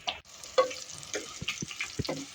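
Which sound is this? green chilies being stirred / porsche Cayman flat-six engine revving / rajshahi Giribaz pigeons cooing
green chilies being stirred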